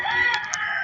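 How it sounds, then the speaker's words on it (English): A rooster crows in a short, loud, close burst with no talk over it. "chicken!"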